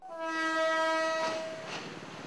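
A passenger train leaving Naga sounds a long, loud horn blast while passing. The tone drops and fades into the rumble of the cars rolling by.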